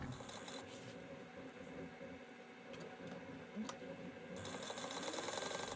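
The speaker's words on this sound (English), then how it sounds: "And you're gonna sew it at 1/8 of an inch." A sewing machine runs steadily, stitching a seam an eighth of an inch from the edge on a fabric box, a fairly quiet, even mechanical whir with light ticking throughout.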